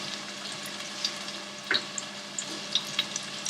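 Soyabean and spinach pulao with chili powder and salt sizzles softly in a pan, a steady close frying hiss broken by a few light stirring taps and scrapes.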